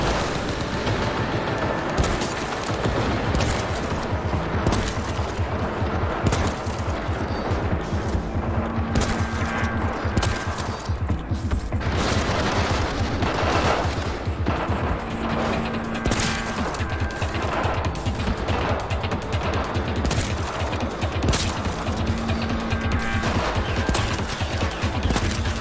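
Rapid, sustained gunfire from the video game Cyberpunk 2077, with dense bursts of automatic shots and heavy impacts filling the whole stretch without pause, loud and close.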